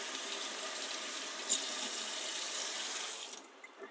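Warm tap water runs steadily into a sink while blueberries are rubbed and rinsed under the stream, a continuous close splashing rush that cuts off abruptly near the end.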